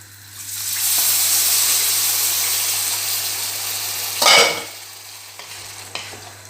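About 300 ml of water poured into a hot pan of hake and vegetables, a loud hissing sizzle that swells up, holds steadily, then a brief louder splash and burst before fading to a quieter simmer.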